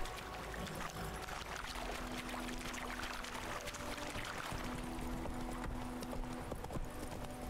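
Hooves clip-clopping steadily as a horse is ridden in The Witcher 3, with a running water-like wash and game ambience underneath, moderately loud throughout.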